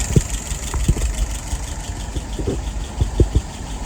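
An engine idles steadily up close at around 650 rpm, a low rumble with faint rhythmic ticking and knocking pulses.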